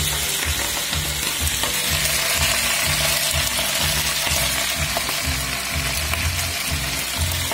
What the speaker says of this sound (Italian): Io le metto così, le faccio saltare nell'olio